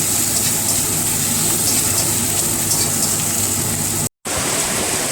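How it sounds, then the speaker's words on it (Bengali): Heavy rain pours down steadily outside, a dense, constant hiss and rush of water with no pauses except a brief cut near the end. "আর দেখো কি বৃষ্টি নেমেছে, বুঝতে পারছো?"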